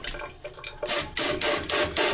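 Water gushes from a garden hose connected to a sink or kitchen faucet through a homemade adapter, coming in loud, hissing surges that pulse roughly every third of a second, close up and without talk.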